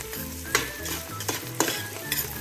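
Coriander sautes in olive oil in a pan with a steady sizzle, broken by several sharp stirring scrapes at irregular intervals.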